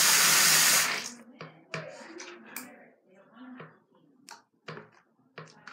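Hot water from a tap gushes loudly into a sink for about a second, then cuts off, followed by scattered clinks and handling sounds with someone talking.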